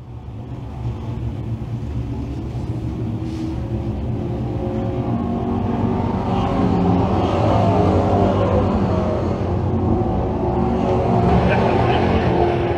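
Pro stock race cars lapping a speedway oval, a steady loud roar of engines from the pack that holds across the whole stretch, with a commentator talking over it.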